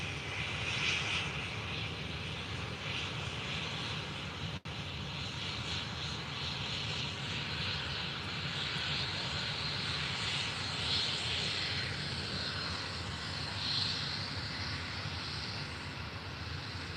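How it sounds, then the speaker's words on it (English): Steady broadband jet roar from an EasyJet Airbus A320 at Faro Airport in the early morning, a continuous hum held at even loudness throughout with no clear approach or fade. "Here's the first EasyJet, A320."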